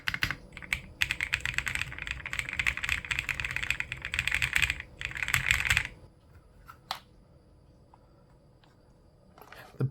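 Rapid typing on an AULA Wind F68 mechanical keyboard, a dense run of close, crisp key clicks for about six seconds, then a few scattered isolated keystrokes in near quiet.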